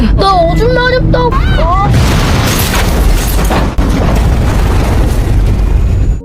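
A loud explosive boom bursts out after a brief voice, followed by sustained roaring, crackling debris noise that stays loud to the end.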